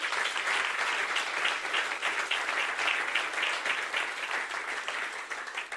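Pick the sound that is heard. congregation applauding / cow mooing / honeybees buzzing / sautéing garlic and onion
congregation applauding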